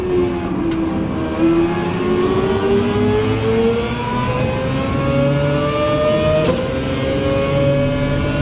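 A Subaru BRZ race car in Gran Turismo 7 drones loud and steady, its engine pitch climbing slowly through a long pull, with a brief shift-like blip near the end.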